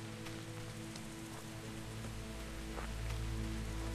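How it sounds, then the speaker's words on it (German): Steady rain in Kingdom Come: Deliverance patters on a surface with a low hum underneath, continuous and even throughout, with no talking. "Es regnet."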